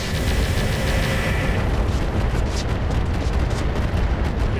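Incendiary weapons firing in the mech game Roguetech, a sustained loud roaring blast of fire and explosions filling the whole clip without pause.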